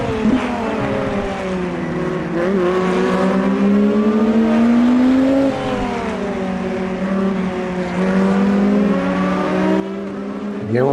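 Race car engines in the Automobilista 2 racing game at Indianapolis, a loud continuous howl with pitch rising and falling through gear changes as another car draws alongside to pass, ending with an abrupt cut.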